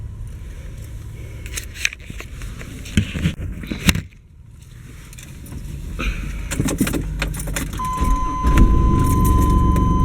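A van starting up and idling while being moved to another parking spot. It opens with keys jangling and handling noises, then a brief pause, then a steady engine drone that swells slightly and continues close by.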